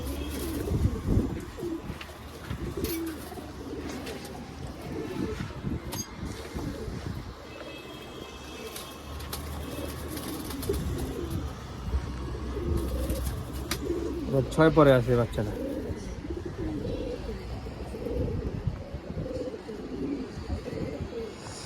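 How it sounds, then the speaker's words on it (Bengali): Black-necked pigeons in a home loft give soft, repeated cooing, faint and intermittent beneath someone talking close by, with a few light chirps and some wind. "কিছু কালো গলা কবুতর কিছু জিরা গলা কবুতর"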